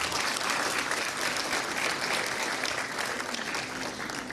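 An audience at a commemorative ceremony in Lüderitz breaks into sustained applause, a dense even wash of many hands clapping that carries on steadily without pause.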